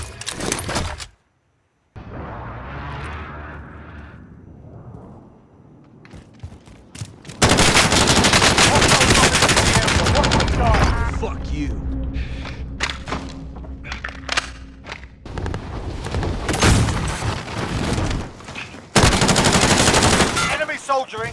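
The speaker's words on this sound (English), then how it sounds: "I'm taking fire." Bursts of automatic and single-shot gunfire in a Call of Duty Warzone match, loud and dense after a quieter stretch, with thumps and rattles between volleys and brief in-game voice lines.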